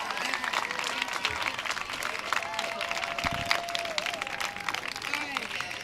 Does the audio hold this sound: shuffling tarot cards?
no